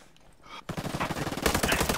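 Automatic gunfire in the tactical shooter Ghost Recon Breakpoint: a rapid, loud burst of rattling shots that starts about two-thirds of the way in and keeps going steadily, with no talking over it.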